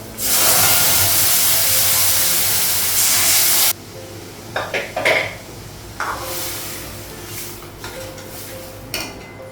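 Dal poured into a hot pan with green chillies and ghee on a home gas stove, giving a loud, steady sizzling hiss for a few seconds that drops suddenly, followed by quieter intermittent sizzles and clinks of pan and utensil.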